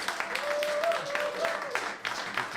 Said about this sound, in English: Everybody, please give a big round of applause for Andrew.